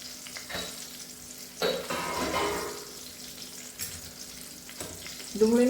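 Small whole onions cooking in a pan for a Kathiyawadi-style curry, a low soft sizzle with a few scrapes and clinks, rising briefly in the middle, close and quiet.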